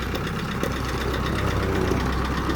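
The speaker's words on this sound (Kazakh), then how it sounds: "Бул көтөрүп кетип аткан трактор корейский 39 ат күчүндөгү Тум маркасындагы трактор" A Korean TUM 39 hp tractor engine runs steadily close by, a continuous low diesel chug with a faint knocking pulse and no pauses over a few seconds.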